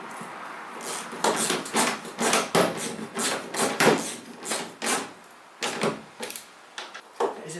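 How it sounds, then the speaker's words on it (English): A ratchet with a 1/2 inch socket tightens engine bolts during an MGB engine and gearbox refit, giving irregular bursts of sharp metallic clicking strokes, close and alone, with short pauses between pulls. "I'm going to go around now with the ratchet and just tighten all these up."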